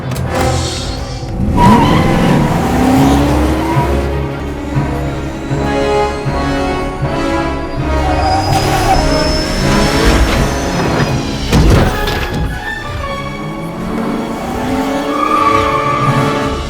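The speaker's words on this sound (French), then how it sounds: "La course commence et tous les joueurs foncent vers l'avant." Race cars speed off at the start of a race, a loud, continuous roar of engines with rising pitch sweeps, tire squeal and skidding, plus a sharp impact near the end.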